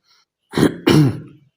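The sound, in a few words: throat clearing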